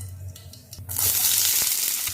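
Mustard seeds spluttering in hot oil in a pan, a sudden loud burst of crackling sizzle after a quieter start, sustained and close.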